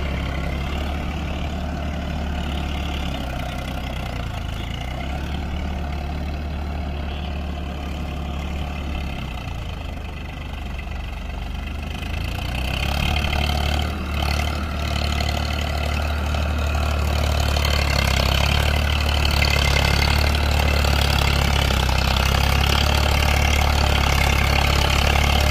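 Farmtrac 60 and John Deere tractors, both 55 HP diesels, running continuously in a head-to-head challenge, a deep heavy rumble that grows louder and fuller partway through, with no talk over it.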